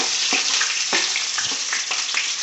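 Garlic-ginger paste sizzles gently in a frying pan for chicken parts varattiyathu, with a steady hiss and a few soft scraping strokes of stirring, close and fairly quiet.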